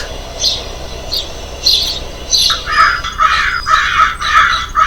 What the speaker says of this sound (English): Crows caw.